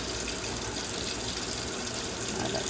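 Tap water runs steadily into a sink while makeup brushes are washed, a continuous bright hiss and splatter close to the microphone, even in level with no pauses and no speech over it.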